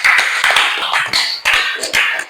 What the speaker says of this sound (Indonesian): Tepuk tangan untuk semua kelompok.